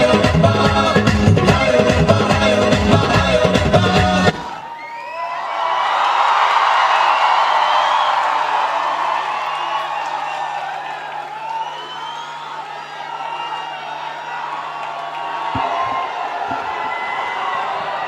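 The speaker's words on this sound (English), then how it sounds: "A big round of applause for this amazing performance." A college festival crowd in a hall cheers and applauds after a dance performance, following the final bars of loud Punjabi music; sustained claps and whoops continue and gradually fade, with a low steady hum underneath.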